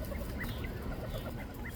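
Small chicks chirp in short, scattered peeps over a low background rumble, fairly faint and close, with no talking.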